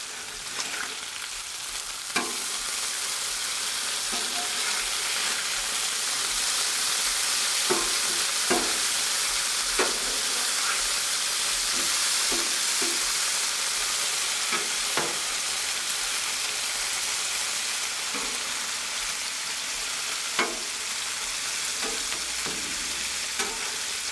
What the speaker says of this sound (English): For our eggs, we're going to be using this Blackstone.